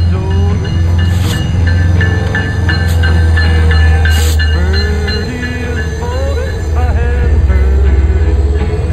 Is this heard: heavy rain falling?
no